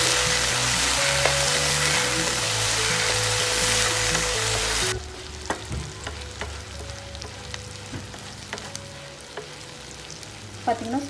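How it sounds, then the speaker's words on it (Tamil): Fresh green turkey berries frying in sesame oil, a loud dense crackling sizzle with stirring that abruptly drops to softer intermittent spits and pops, no talk. "இந்த சுண்டைக்காயும் நல்ல எண்ணெயில் வதங்கணும்."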